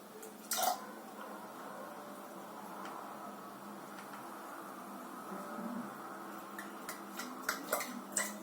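Dried prunes tumbling into a container for prune cognac, a quick clatter near the start followed by scattered light ticks and knocks over a steady low background hum, close and fairly faint.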